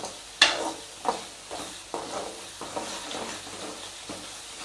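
Misal masala is stirred in hot oil for Kolhapuri misal pav, with about six rhythmic scraping strokes, each setting off a burst of sizzling over a steady frying hiss, close and clear.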